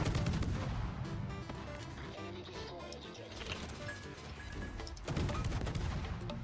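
Dense, continuous naval gunfire from warship secondary batteries in World of Warships, rapid overlapping booms and cracks forming a loud, steady barrage throughout.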